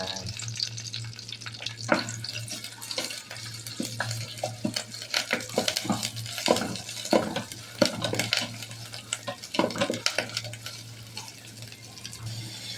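Curry paste being stir-fried in a pan for a spicy eel dish: a steady hiss of sizzling under repeated scraping and clinking of a utensil against the pan, with a low hum running throughout.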